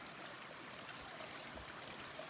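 Mountain river flowing in the Uinta Mountains near Christmas Meadows, a steady broadband rush of water that is soft and somewhat distant, continuous with no pauses or talk.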